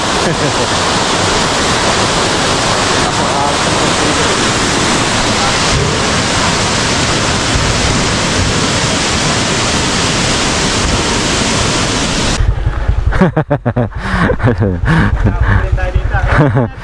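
Bulawan Falls in Baler, Aurora, a loud continuous roar of heavy falling water close by, turning rougher and gustier near the end as the mic is buffeted.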